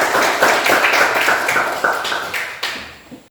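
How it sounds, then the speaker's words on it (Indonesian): A class of seventh-grade students applauds for a classmate, a dense burst of many hands clapping loudly together that gradually thins and fades out over a few seconds. "berikan aplaus atau tepuk tangan kepada Ishak"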